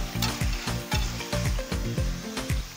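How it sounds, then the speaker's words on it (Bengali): Whole spices fry lightly in hot oil in a pan for a Maharaja chicken recipe, giving a soft close sizzle broken by a regular series of scraping, stirring strokes. "তেল গরম হয়ে গেছে, এইগুলোকে খুব বেশি গরম করবেন না, জাস্ট হালকা করে ভেজে নিচ্ছি।"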